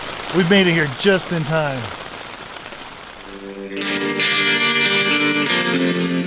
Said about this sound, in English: I'm sure you can hear the rain behind me in the tent.